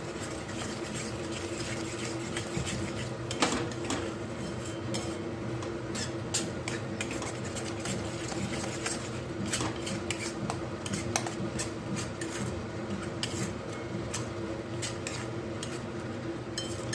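A spoon clinks and scrapes in a pan while Malvani masala and red chutney are stirred together for a tomato saar, with light, irregular metallic taps and scraping over a steady background hiss.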